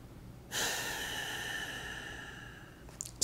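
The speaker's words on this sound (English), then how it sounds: "So you see, I breathe through my nose." A single long nasal breath, a steady airy hiss drawn in through the nose for about two seconds, close to the microphone and otherwise quiet, with no talking.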